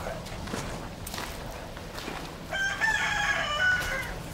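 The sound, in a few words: rooster crowing and hens clucking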